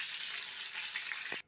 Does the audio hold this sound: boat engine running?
no